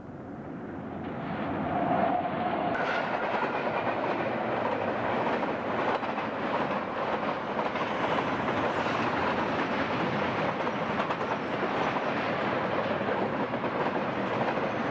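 Westbound Union Pacific freight train passing near Kelso Station in the Mojave desert by the Devil's Playground dunes, a steady broad rumble and rolling wheel noise building in the first seconds, then holding at moderate level, heard from a distance.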